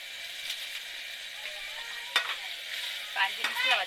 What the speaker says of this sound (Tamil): கொதிக்குது ஃப்ரெண்ட்ஸ், பார்த்துக்குங்க.